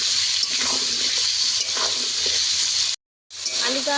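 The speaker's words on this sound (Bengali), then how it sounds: "লবণ হলুদ দিয়ে আমি ভালো করে আলুটাকে ভেজে নেব" Potatoes seasoned with salt and turmeric fry in a pan with a steady, loud, close sizzle. The sizzle breaks off briefly near the end and then resumes.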